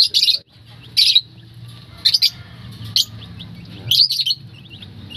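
Rhode Island chicken chicks in a cage give repeated bursts of high, close chirping, with short pauses between calls and a low background hum.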